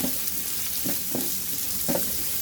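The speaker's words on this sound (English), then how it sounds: "then add my diced onions. Then I'm going to stir." Diced onions fry in oil left over from frying boiled eggs, a close, steady sizzle broken by a few soft scrapes as they are stirred, with no voices.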